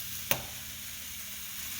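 Pork sears in a hot pan with a steady, close sizzling hiss and one sharp clink early on, with no talking.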